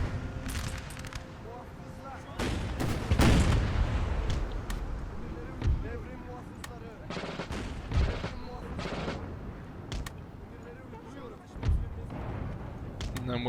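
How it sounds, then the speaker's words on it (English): Musket volleys crackle through a Napoleon: Total War battle, with scattered sharp reports and a few louder bursts over a steady din of distant gunfire and battlefield noise, while a voice talks throughout. "It is musket fire."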